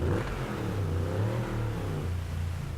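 A Bentley Continental engine in the Driveclub video game drones loudly and steadily with a deep, rumbling tone that shifts slightly in pitch.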